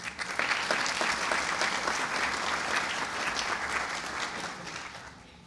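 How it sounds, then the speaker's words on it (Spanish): Warm, sustained applause from an audience at a ceremony where a lawyer receives an award, dense and even before tapering slightly at the end. "igualmente un caluroso aplauso para todos"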